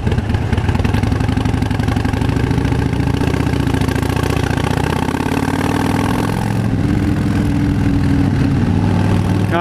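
A Harley-Davidson Fat Bob 103 motorcycle engine of roughly 1700 cc runs steadily close by, a loud continuous low rumble with a slight shift in tone partway through and no speech.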